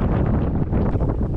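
Strong wind buffets the microphone beside a Kansas lake, making a loud, steady roar that rumbles and gusts throughout with no talking.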